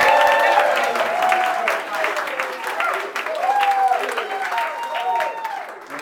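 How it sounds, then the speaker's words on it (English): Wedding guests applaud the best man: sustained, steady clapping from a crowd that fills the room, with cheers and voices mixed in and the applause gradually tapering off. "a great big round of applause for Mr."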